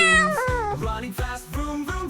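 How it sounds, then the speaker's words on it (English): A cat meows loudly up close in a short string of repeated calls, each rising and falling in pitch, with no other voices around it. "Call me Cat."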